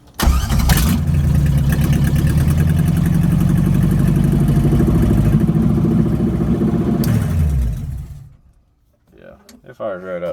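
A V8 swapped into a Chevy S10 truck, built for 24 Hours of Lemons or drifting, cranks and fires right up, then runs with a loud steady idle for several seconds before cutting off.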